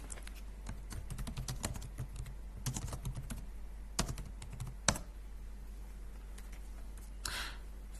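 Typing on a computer keyboard, rapid bursts of clicking keystrokes with short pauses, close and clear over a steady low hum, no talking.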